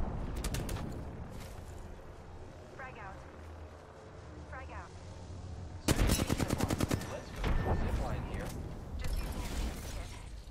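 Heavy automatic gunfire erupts in Apex Legends: rapid, loud bursts of shots in dense volleys after a quieter stretch of distant fire, with game voice lines and effects mixed in.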